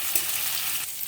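Chopped tomato fries in a pan for a vegetarian dimer hingi, a short, steady close sizzle with no voices.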